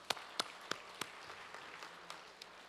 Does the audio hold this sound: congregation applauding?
yes